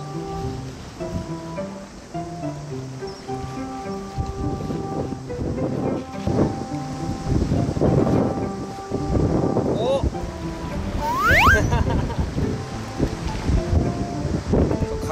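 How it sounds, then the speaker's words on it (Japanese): Strong wind blowing across a seaside breakwater while fishing on a hot afternoon: a continuous loud, blustery roar with heavy microphone buffeting that surges and eases, and faint tonal sounds underneath. "風が強すぎてあんまり当たり分かんなかったけど"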